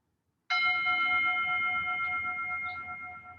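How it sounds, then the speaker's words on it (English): A meditation bell struck once, ringing out with a clear sustained tone that slowly fades, alone in a quiet room during a tai chi and meditation session. "Allow the sound of the bell to bring you a little deeper to the present moment"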